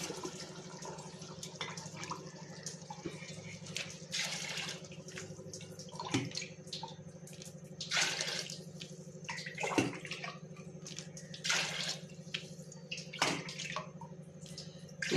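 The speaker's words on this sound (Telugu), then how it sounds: "ఇప్పుడు నేను ఏం చేస్తానంటే వాటర్ పోసుకుంటాను." Water is poured into a pot for chicken pulao in a home kitchen, arriving in several gushing bursts over a steady low mechanical hum, fairly close and moderately loud, with no talking.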